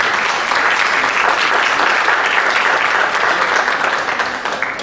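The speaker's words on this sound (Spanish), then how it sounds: "Le damos un aplauso," An audience at a talk on traditional Hñähñu cooking from the Valle del Mezquital claps steadily, dense applause filling the room for nearly five seconds before easing slightly at the end.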